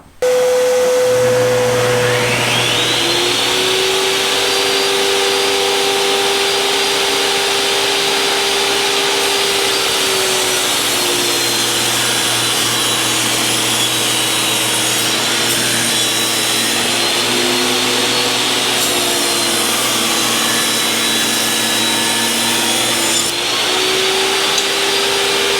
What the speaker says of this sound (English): Let's go ahead and rip this piece down.